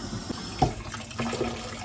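Hot tap water runs over cooked fettuccine as it is rinsed in a sink, a short steady splashing and gushing stream with a brief louder splash, no talk.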